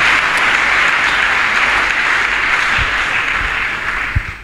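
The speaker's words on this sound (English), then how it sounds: "If you are clapping for Jesus Christ" A church congregation applauds together, a dense, loud wash of clapping that holds steady, then thins out and fades near the end.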